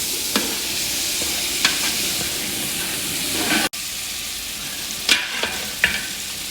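Mutton cooks down with tomatoes in a pot, giving a steady sizzle and hiss with a few scraping stirs, one brief cut midway and louder clatter near the end.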